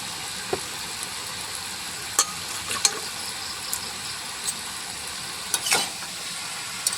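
Cabbage and fish head curry being stirred in a pan, a soft constant sizzle broken by scattered sharp clicks and scrapes of the spoon against the pan, with no talking.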